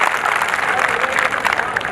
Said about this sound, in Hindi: जब तक सारे मिलके एक बार जोरदार ताली नहीं बजाए